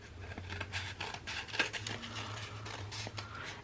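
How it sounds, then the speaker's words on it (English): Scissors snipping around a paper treat pouch to round it into a heart, a steady run of close, soft cutting crunches over a low background hum. "And I'm gonna take my scissors"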